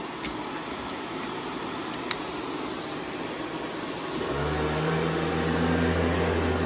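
A Riccar Prima Tandem Air canister vacuum cleaner runs close by with a steady whooshing roar. Partway through, its tone deepens and grows louder as a low motor hum sets in, with a few faint clicks early on.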